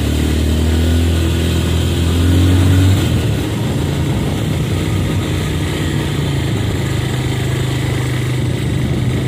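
A motorcycle engine labors loudly up a steep, winding hill road, its low drone steady and close throughout with a brief surge near the start.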